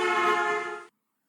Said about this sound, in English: The horn to you might sound something like this.